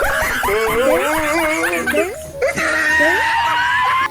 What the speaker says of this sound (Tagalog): Ay, nanay na aso pala yun.